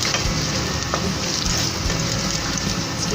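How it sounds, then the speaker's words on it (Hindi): Cumin, black pepper, cloves, black cardamom and bay leaf frying in hot oil for dhaba-style chana dal, giving a loud, steady, dense sizzle with faint stirring, no voices. "इसको थोड़ा सा फ्राई करते हैं।"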